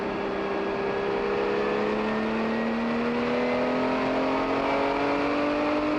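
Vintage race cars, including a 1979 Porsche 935 and Chevrolet Monzas, at a race finish, a sustained engine drone with rising and shifting tones as cars run past, continuous and fairly loud with no talk.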